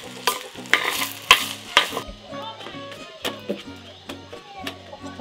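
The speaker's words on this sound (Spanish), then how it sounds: "Hay que revolver bien revuelto, y penetre toda la salsa." A spoon scrapes and stirs a sizzling mix of salsa, requesón and tortillas in a hot pan, several distinct scraping strokes over a steady frying hiss, close and fairly loud.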